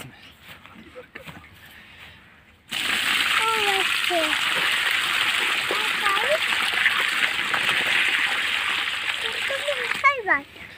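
Water is poured from a container onto newly planted saplings, a sudden steady splashing gush that starts a few seconds in and runs on, with people talking over it.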